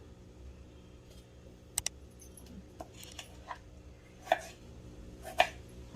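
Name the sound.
knife chopping native tomatoes for pickle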